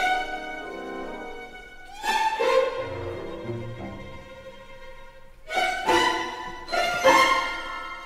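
Orchestral film score music from a movie soundtrack, the cue just before Tinkerbell arrives, with a soft sustained passage broken by bright swelling bursts and accents, moderately quiet overall and without voices.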